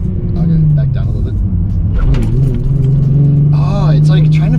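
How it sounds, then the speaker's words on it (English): A Nissan 350Z or Mazda Miata engine hums steadily at low revs during a manual driving lesson, its pitch rising slightly at times, while people talk over it throughout. "you can just hear where the RPMs are"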